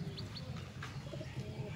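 Pigeons, a flock of about 70-80, coo softly in low, throaty repeated calls, with a couple of faint chirps above, fairly close in a quiet space.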